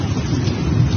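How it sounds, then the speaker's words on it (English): A thunderstorm played back from a doorbell camera recording, a short burst of dense rumbling rain and thunder noise, loud and continuous with wind-like roughness. "This was a lightning storm, right?"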